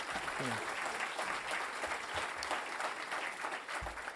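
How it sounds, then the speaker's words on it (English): Applause from a conference plenary audience for the county passing a bag ban, an even wash of clapping throughout, somewhat distant and quiet, with faint murmurs mixed in. "let's give a big round of applause to the county for passing the bag ban"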